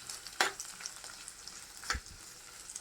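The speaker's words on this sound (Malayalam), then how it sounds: "അതൊന്ന് ചെറുതായിട്ടൊന്ന് വഴറ്റിയെടുക്കാം" Chopped shallots and green chilies sautéing in hot oil for a Kerala-style coconut roasted prawn curry, a soft steady sizzle with two sharp spoon scrapes against the pan, close and alone without talk.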